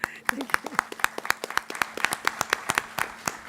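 Applause at a school board meeting: sparse hand claps, a few people clapping in a fairly even rhythm, close and moderately loud, with a brief voice near the start.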